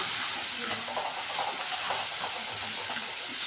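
Okra and onion bhajiya fritters being stirred together in a pan, with a steady scraping and sizzling hiss and soft clacks from the spoon, close and fairly even throughout.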